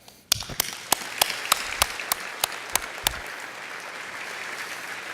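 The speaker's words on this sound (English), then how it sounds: "I'd like to give a round of applause to those Scheffler employees who are representing all of us here tonight" At an annual company dinner, employees of Scheffler receive a round of applause: loud, evenly spaced claps ring out close by over a wider spread of crowd clapping that carries on to the end.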